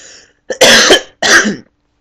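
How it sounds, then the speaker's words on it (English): A person coughs in two loud, close bursts, a short harsh hack followed by a second longer cough after a brief pause, alone with no talk. "Sorry guys, I keep coughing."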